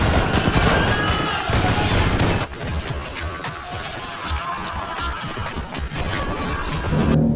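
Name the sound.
gunfire shootout in the film Headshot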